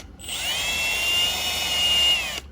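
A high-pitched power drill whines steadily for about two seconds, starting and stopping abruptly, close and fairly loud, drilling through valve body passages of a 4L60E transmission.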